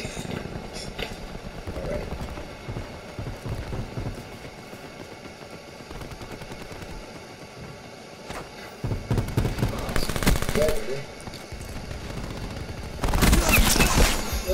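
Bursts of gunfire from new guns in Black Ops 4, with steady rattling fire through the first seconds and louder, denser volleys near the middle and end, mixed with game sounds and talk.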